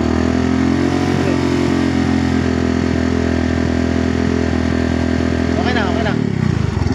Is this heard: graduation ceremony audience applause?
no